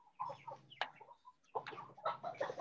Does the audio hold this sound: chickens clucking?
yes